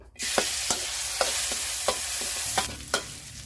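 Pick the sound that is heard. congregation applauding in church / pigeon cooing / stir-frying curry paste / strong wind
stir-frying curry paste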